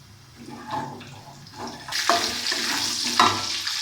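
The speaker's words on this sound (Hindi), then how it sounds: "उसी ऑयल में हम लोग करी पत्ता डालेंगे।" Curry leaves dropped into hot oil left from frying okra burst into a loud hissing sizzle partway through, the crackle swelling suddenly and staying bright after quieter stirring noises.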